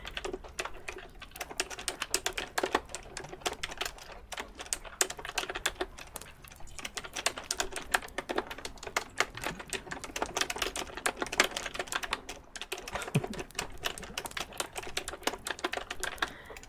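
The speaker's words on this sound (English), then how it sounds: "It's tapping ASMR. I mean, it's typing, not tapping." Rapid, continuous typing on a computer keyboard, recorded close up as an ASMR sound, with dense clicking keystrokes and brief pauses, heard alone.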